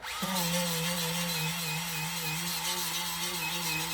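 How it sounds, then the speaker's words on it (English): A Snap-on buffing tool whirs up and runs steadily against tire rubber during a patch repair, a loud continuous high-speed hum with a faint grinding rasp, close by and without talk. "I got this little snap-on buffing tool, which is nice."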